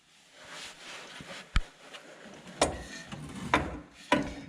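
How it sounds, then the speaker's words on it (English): A ball joint press tool is screwed down on a Toyota Corolla's suspension, giving sharp metallic creaks and clicks about once a second over a low rubbing grind, close up. "as you screw in this bottom screw here on the tool, it creates pressure, which will then pop the ball joint down and out"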